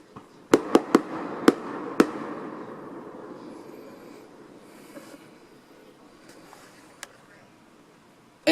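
A neighbor's fireworks go off outdoors on a freezing March night: a quick burst of five sharp cracks early on, then a fading crackle and rumble, with a couple of isolated pops later and one at the very end.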